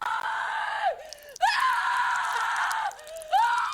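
A woman in the horror film Terrifier 3 screams in terror, long loud wavering shrieks broken by short gasping pauses, shrill and close.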